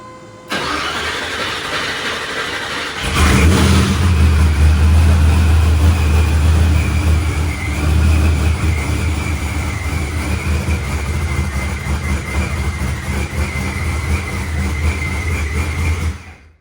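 A supercharged LT1 V8 in an Impala SS, fitted with an F2 blower, cranks and fires after a quiet start, then settles into a loud, rumbling idle with a steady blower whine for over ten seconds.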